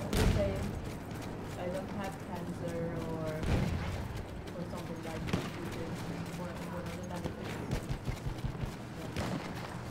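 Gunfire in a multiplayer shooter match with an enemy behemoth vehicle nearby, dense rattling bursts and scattered shots running steadily throughout, layered with other battle noise while players talk over it.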